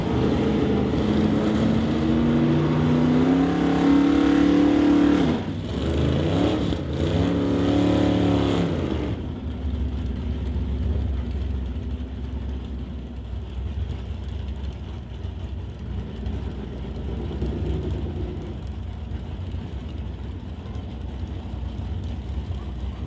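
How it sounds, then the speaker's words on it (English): Drag racing cars perform burnouts at an NHRA race, a loud roaring engine drone with rising and falling revs and a brief surge before settling into a lower, steadier rumble, heard alone. "they are going to do their burnouts once again now that we have the sensor adjusted."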